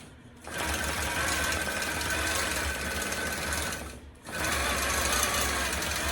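A Gammill longarm quilting machine stitches a poinsettia quilt in a steady, fast, continuous whir, cutting out briefly twice before running on.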